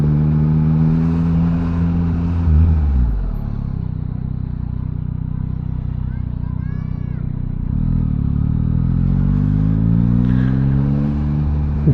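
A Yamaha MT-09 motorcycle rides through traffic on the way to the seaside, its engine droning steadily, then winding down and building back up through the gears, with wind rush and some voices mixed in.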